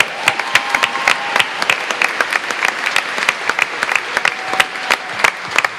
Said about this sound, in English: massive round of applause for these singers